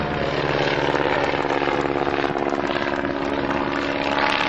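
A stunt propeller airplane roars loudly and steadily overhead at a barnstorming air show, its engine note rising and shifting slightly as it flies a loop.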